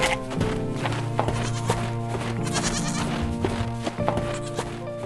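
White goats carried on a green trailer behind a green truck, bleating repeatedly and overlapping in a busy, close chorus over a bed of farm sounds.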